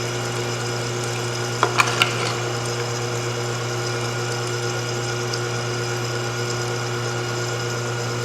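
An electric meat grinder forces meat through a medium die, giving a steady, loud motor drone with a constant hum and a few brief clicks early on.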